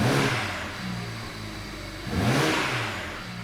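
BMW 335i engine running, with the revs dipping and then climbing again in a second rev, loud and close to the car.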